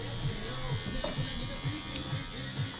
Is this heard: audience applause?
no